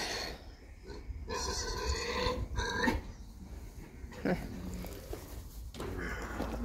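Piglets grunt in short, scattered bursts amid shuffling and rustling movement, with someone talking over them.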